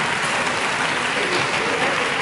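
Sustained applause from an audience at a poetry slam competition, a steady dense wash of clapping that stays loud and even throughout, with no pauses.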